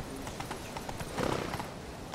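Hooves of a horse clip-clopping along in The Witcher video game, a steady rhythmic patter of game sound effects at moderate loudness, swelling briefly midway.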